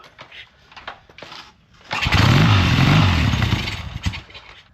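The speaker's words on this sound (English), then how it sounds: "Helps them kickstart these things. That's the running bike right there" A 1977 Triumph Bonneville 750 motorcycle is kickstarted after a few quiet thumps and scuffs, then its engine catches and runs loud and close for a couple of seconds before dropping back.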